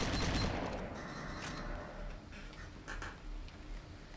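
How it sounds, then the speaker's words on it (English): Machine gun fire in the video game Kane & Lynch 2: Dog Days, a loud close burst at the start trailing into scattered rattling shots and distant pops. "We're getting shot from somewhere with the machine gun."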